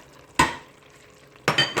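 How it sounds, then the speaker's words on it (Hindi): A spoon stirs spices into chicken palak curry in a pan, giving two or three short close scraping bursts with faint sizzling between them. "मसाले वगैरह ऐड करके तो अच्छे से मिक्स किए हैं"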